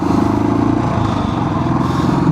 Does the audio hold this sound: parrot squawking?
no